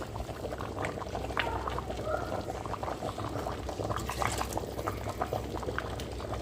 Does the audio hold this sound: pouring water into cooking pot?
yes